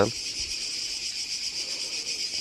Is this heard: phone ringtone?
no